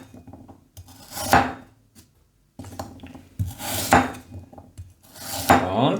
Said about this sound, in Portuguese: É só cortar assim, em pequenos pedaços